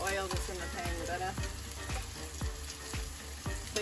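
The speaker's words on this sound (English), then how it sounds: "So this is where deep frying would be easier. But, you know, shallow frying works. And the more oil that's in the pan, the better." Food shallow-frying in a generous layer of oil in a pan aboard a sailing catamaran, giving a steady close sizzle with repeated soft clicks and taps of a utensil, and no talk.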